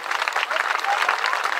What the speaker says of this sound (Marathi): जरा जोरदार टाळ्या वाजवून